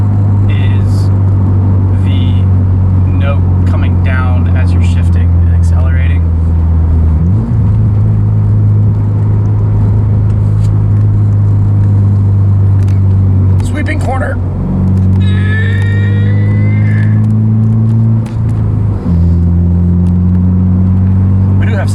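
Subaru Impreza with an EJ25 engine and Magnaflow exhaust: a loud, steady low rumble that rises in pitch twice, the revs climbing and settling, heard close with no talk over it.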